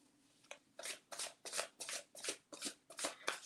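A deck of tarot cards is shuffled in a run of about eight crisp, rhythmic riffling bursts, close and clear with no talking.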